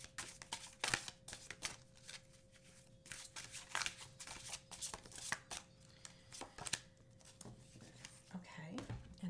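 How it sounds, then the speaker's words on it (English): Angel Power Wisdom oracle cards shuffled by hand, a quiet, close run of soft riffling and flicking bursts, with occasional faint speech mixed in. "Let's also pull a Angel Power Wisdom card"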